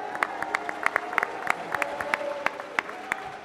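A press conference audience for Logan Paul vs Dillon Danis breaks into scattered, moderately distant clapping with sharp irregular claps, mixed with crowd murmur and faint shouts.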